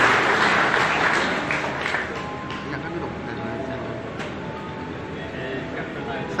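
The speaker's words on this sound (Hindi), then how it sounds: "आगे जोरदार ताली से स्वागत किया जाए।" Audience applause welcoming guests at a Freedom Fighters honour ceremony in Jodhiyan, loud and dense at first, then fading to a steadier, softer clatter with voices mixed in.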